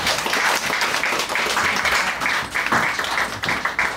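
Audience applause at a small live cover-song concert, a room of people clapping steadily and close by at a lively, even pace for the whole stretch.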